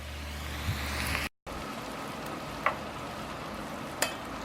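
Chopped vegetables for a barbecue chili cook down in a pot with a soft, steady sizzle that holds throughout. A short dropout breaks it early on, and a couple of faint clicks come later.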